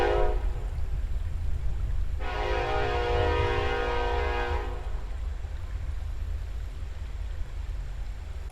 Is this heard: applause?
no